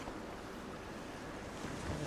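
Ocean waves washing against rocks on a windy coast in the video game DayZ, a continuous faint roar of surf and wind with no distinct individual breakers and no voices.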